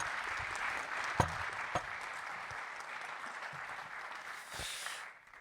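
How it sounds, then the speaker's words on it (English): Audience applause at a panel discussion on securing Jewish communities against antisemitic violence, steady clapping from a seated crowd with a few sharper claps standing out, continuing evenly for several seconds before tapering off near the end. "This is your applause."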